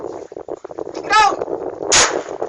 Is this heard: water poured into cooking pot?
no